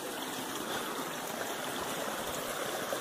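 A mountain stream runs loud with extra water after heavy rain on a trail toward Pico do Selado near Monte Verde, a steady, close, broadband rush with no voices.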